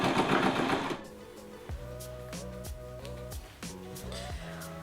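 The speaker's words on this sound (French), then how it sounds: "Je vais juste faire une couture toute simple là" A sewing machine stitches two fabric bands together for a sleep mask, running in several short whirring bursts with brief pauses, after an opening burst of fabric rustling.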